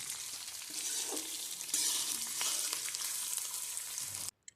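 Diced garlic and onion sizzle loudly in hot oil while being stirred for a restaurant-style chicken manchurian, a dense continuous frying hiss with scraping stirs, stopping abruptly near the end.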